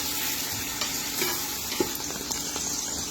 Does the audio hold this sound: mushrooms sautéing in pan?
yes